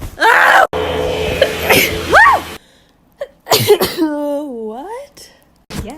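Several sneezes from different people follow one another, loud and close, with voiced squeals and gasps between them and short gaps of silence.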